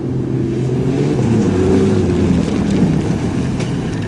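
A 5.4 Ford and a 5.7 Dodge race each other across a farm field, their engines roaring loudly and continuously with a low rumbling drone that swells slightly midway.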